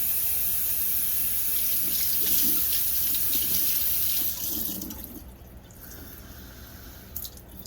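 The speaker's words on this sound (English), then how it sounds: "We're gonna fill it up with water, see if it holds." Tap water runs steadily into a container, a loud continuous splashing rush that tapers and quiets near the end, with a few faint drips after.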